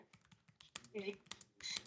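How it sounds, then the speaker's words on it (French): Typing on a Clavier XL Print Titan large-print backlit keyboard, a run of quiet, irregular key clicks close to the microphone with a few brighter, louder strokes. "Donc là, je suis en train de taper. Mon clavier, comme vous entendez, ça fonctionne bien."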